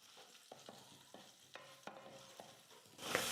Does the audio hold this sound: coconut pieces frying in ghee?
yes